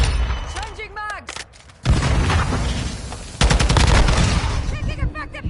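Automatic gunfire in a military shooter video game comes in loud sustained bursts, with a second heavier volley later, while voices talk beneath the shooting.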